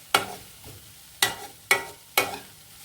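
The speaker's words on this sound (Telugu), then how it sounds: "మాడిపోకుండా చేతంబడే కలుపుకోవాలి." A spoon stirring tomato and fenugreek chutney (pachadi) in a hot pan: four sharp scraping strokes, each followed by a brief sizzle, heard close with no talking.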